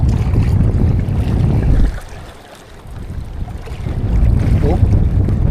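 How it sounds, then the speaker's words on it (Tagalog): Strong wind buffets the microphone at sea aboard a small fishing boat, a loud rumbling roar that dips briefly midway before surging back. "Malakas ng hangin. Yan. Hangin na malakas."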